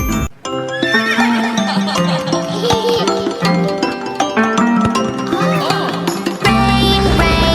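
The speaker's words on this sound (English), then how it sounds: "Neigh, neigh, the horses say." Horse neighing and whinnying within a children's nursery rhyme song, the calls ringing out over a bright musical backing with hoof clip-clop, loud and steady throughout with no speech.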